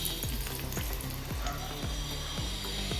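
Star anise, cinnamon and other whole spices crackle in two tablespoons of hot ghee inside a pressure cooker, a continuous close sizzle with rapid popping and sputtering bursts, no speech.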